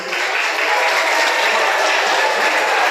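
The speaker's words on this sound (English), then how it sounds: "You should clap for this." Audience applause at a school alumni meet, a dense, steady wash of clapping from a large crowd that fills the space for the whole stretch without pause.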